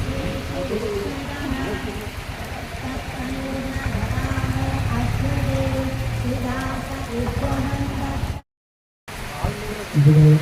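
Heavy rain pouring outside a sacrificial hall during a Gayatri yagam at Thrangali, Shoranur, a dense steady patter with chanting and voices over it, briefly cut off near the end.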